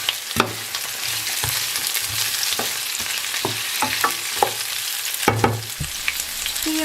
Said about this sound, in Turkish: Biberleri de ilave ettikten sonra şöyle 10-20 saniye kadar biberlerle birlikte diğer sebzeleri de kavurdum.